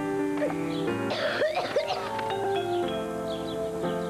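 A cough syrup advert for Flavamet, aimed at wet, persistent coughs, features a few close coughs and throat-clearing sounds against a tonal music bed.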